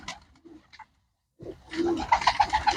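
Racing pigeons, sold as flying birds for pigeon-flying contests, coo close by: a few soft notes, a short silence, then a fuller run of throaty, rolling coos.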